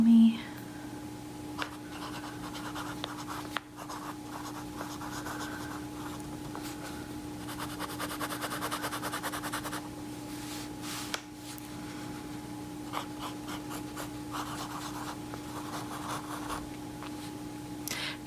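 A Lamy fountain pen nib scratches across paper in soft, continuous strokes with brief pauses, close and quiet, with a faint voice at moments.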